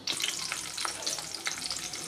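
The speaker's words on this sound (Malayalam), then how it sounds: "ഇഞ്ചി, വെളുത്തുള്ളി, കറിവേപ്പിലയും കൂടെ ഇട്ട് കൊടുത്തിട്ടുണ്ട്." Chopped ginger, garlic and curry leaves sizzle steadily in hot oil in a pan for a crab roast, a loud continuous crackle with small pops and occasional stirring scrapes, no voices.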